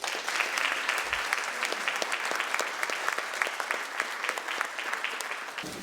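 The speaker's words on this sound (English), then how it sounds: "Let's give a round of applause for all of our sponsors." An evening event audience applauds its sponsors, with steady dense clapping running throughout at moderate level, no voices over it.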